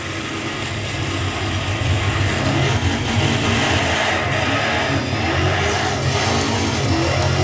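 A Bugatti Veyron's engine in the racing game Need for Speed Shift gives a steady, loud roar at high speed, holding a dense drone throughout with no talking.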